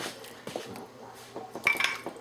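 French onion soup is ladled from a pot into bowls, with a few brief clinks of a ladle against a pot and dishes, soft liquid splashes between them, and one sharper ring near the end.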